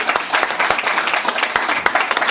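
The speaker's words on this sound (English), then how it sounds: "Round of applause for Margaret." Audience applause after a tribute at an evening event, a steady wash of many hands clapping with sharper individual claps poking through, fairly loud and close throughout.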